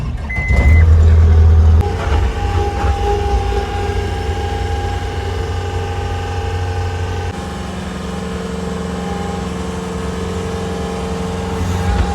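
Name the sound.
farm tractor engine running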